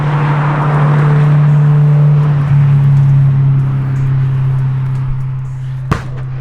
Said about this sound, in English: Backfired like a mug.